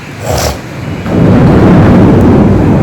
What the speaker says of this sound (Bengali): অদিনে বৃষ্টি তার মধ্যে আবার মেঘ ডাকছে বিদ্যুৎ চমকাচ্ছে